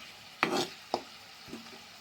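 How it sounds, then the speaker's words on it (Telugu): Cut okra tipped into a pan of cooked tomato and onion, giving a couple of short stirring scrapes and a soft sizzle at the start, then a quieter faint frying tail. "ఇప్పుడు ఇందులోకి బెండకాయలను కట్ చేసి ఉంచుకున్నాం కదా"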